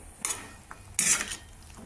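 Brinjal and sweet potato curry being stirred in a pan, two short bursts of spoon scraping against metal over a quiet background.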